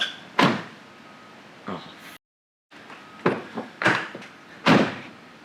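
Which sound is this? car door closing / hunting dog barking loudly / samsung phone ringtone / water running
car door closing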